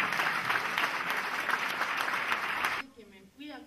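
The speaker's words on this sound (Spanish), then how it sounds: "Fuerte el aplauso." Loud, dense applause from an audience at a Latin American cultural event in Quilmes, a steady wash of many hands for nearly three seconds that cuts off abruptly, followed by a short moment of speech.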